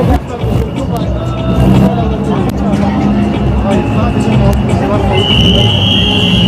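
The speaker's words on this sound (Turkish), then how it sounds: "Araç geliyor dikkat edin." Toyota Gazoo Racing rally car pulling up to a stage start at WRC 2020 Marmaris, its engine rumbling nearby beneath crowd babble and a voice on a loudspeaker, with a high whine rising toward the end.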